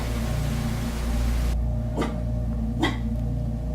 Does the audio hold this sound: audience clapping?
no